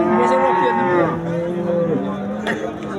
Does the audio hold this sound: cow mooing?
yes